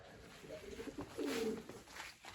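Pigeons coo softly at a nest, a few low, rounded coos rising and falling over faint background noise, fairly quiet and close.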